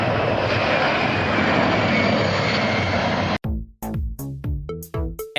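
Aircraft engine noise from a modified Boeing 747 carrying the Space Shuttle Endeavour on its back, a loud steady roar for about three seconds that cuts off abruptly into a series of separate sharp hits.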